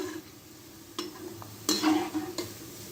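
Onions frying and browning in a pan, heard as a soft steady sizzle broken by a few sharp bursts of stirring and scraping.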